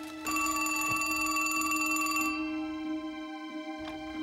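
An old-style telephone bell rings in a continuous bright trill that stops abruptly, leaving a fading resonant tone and faint room sounds.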